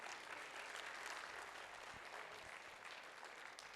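Audience applause for performers at a Ramayana festival, a dense, continuous clapping from a large crowd heard at a distance.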